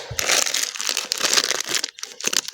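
A plastic packet crinkles loudly and steadily up close, with crackling bursts and a brief pause near the end.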